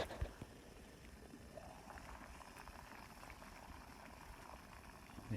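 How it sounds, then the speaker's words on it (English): A camping pot of water at a rapid boil on a backpacking trip, giving a steady, close bubbling hiss that holds evenly throughout with no one talking. "We have rapid boil."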